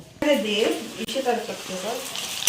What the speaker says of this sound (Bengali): এই যে এখানে একটু পেঁয়াজ লঙ্কা ভাজা হয়ে যাচ্ছে, সাথে আমি এই রসুন থেতোটা দিয়ে দিব।